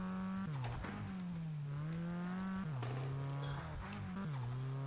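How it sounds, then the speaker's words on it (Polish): Front-wheel-drive Club car driven in Need for Speed, an engine droning steadily with pitch dipping and rising as the throttle lifts and reapplies through turns, with occasional tire squeal or thumps. "Jak puścimy gaz, to auto ładnie skręca."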